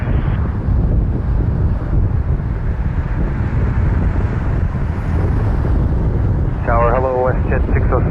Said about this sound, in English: WestJet 606 is on final now from Regina, Saskatchewan, 737-700.